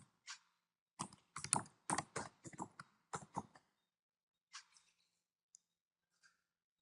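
Quick clicking keystrokes on a computer keyboard while a file name is typed, in rapid clusters followed by a few scattered taps, close and quiet.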